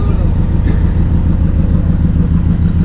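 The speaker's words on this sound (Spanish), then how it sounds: "Esto es un carro." A 1956 Ford classic car engine runs steadily at idle, a loud, close low rumble that holds an even level the whole time.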